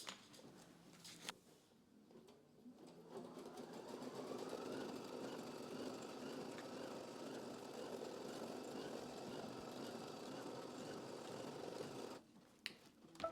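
An embroidery machine sews a placement stitch straight onto stabilizer in a hoop for in-the-hoop towel scallop edging. A steady mechanical whir runs for about ten seconds, with quieter gaps at the start and end.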